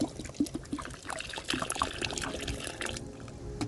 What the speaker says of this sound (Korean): 그리고 물 이제 두 병째 또 부어주세요